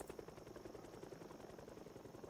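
A helicopter in the zombie survival game Project Zomboid, a steady rhythmic rotor chop droning at moderate, fairly faint level with no talk, as if passing overhead or moving away.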